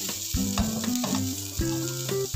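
Water bamboo sautéing in a hot pan until browned, a steady close sizzle with brief clinks of a utensil against the pan.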